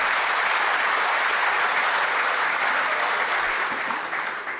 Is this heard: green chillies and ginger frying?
no